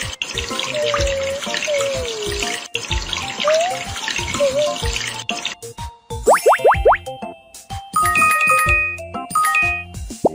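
Shower water runs in a puppy care video game, a bright splashing stream with bubbly game tones, followed by springy cartoon boings and chimes.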